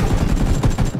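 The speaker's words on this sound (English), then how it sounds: "a light machine gun with a 4x scope" A light machine gun with a 4x scope fires in the battle royale game PUBG, a loud, dense rapid burst of shots rattling continuously at close range.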